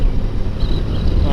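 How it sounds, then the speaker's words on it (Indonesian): Strong wind buffets the microphone with a low roaring rumble, loud and continuous, while riding at speed on a Honda CBR150R motorcycle. "anginnya lumayan kencang"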